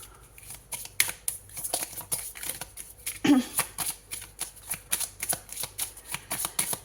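Oracle cards being shuffled and drawn, with a regular series of soft papery flicks and taps close by, one louder rustle partway through, and a little quiet speech.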